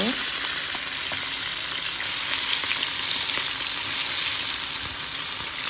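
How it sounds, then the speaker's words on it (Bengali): Fish pieces, flipped over in a hot pan of oil, fry with a loud, continuous sizzle and crackle throughout, with no talking. "একটু ভাজা হয়ে গেছে আমি মাছগুলো উল্টে নেব"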